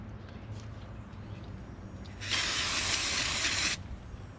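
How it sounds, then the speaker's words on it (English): A loud aerosol spray hisses steadily for about a second and a half into the inside of an Evinrude Playmate outboard, standing out sharply over a low background hum. "Let's also spray the inside of this."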